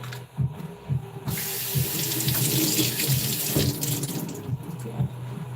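Kitchen tap water runs steadily and loudly while a bell pepper is washed under it, splashing continuously for several seconds with a few soft knocks at the start and end.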